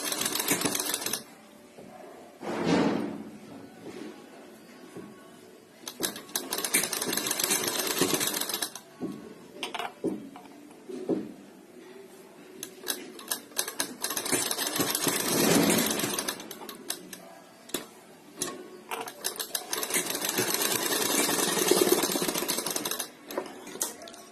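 A sewing machine stitches around a garment sleeve in steady bursts of rapid mechanical clatter, with short pauses between runs as the fabric is turned, loud and close with no talk.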